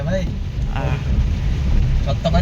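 Heavy rain falling outdoors at the Salangpur Hanuman temple, a dense, continuous roar close to the microphone with some wind buffeting and faint voices.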